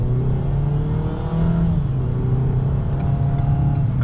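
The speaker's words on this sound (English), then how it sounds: "That sound right there is just one other complaint. The Maverick just does not sound good" Engine of a 2024 Ford Maverick XLT FX4 pickup heard from inside the cab, a steady droning hum that slowly rises in pitch as the truck accelerates, continuous and fairly loud.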